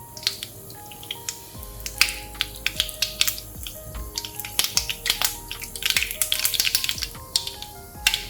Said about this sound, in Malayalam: കടുക് പൊട്ടിക്കഴിഞ്ഞ്